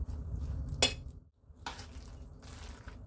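A spoon stirs tempeh batter mixed with egg in a bowl, making soft wet squelching with a couple of sharp clinks against the bowl's side. The sounds are close and fairly quiet, with no voice.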